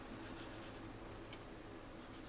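Colour pencil or crayon rubbed very gently onto paper in a drawing lesson, a soft continuous scratchy shading sound, close and quiet, steady throughout with no talking.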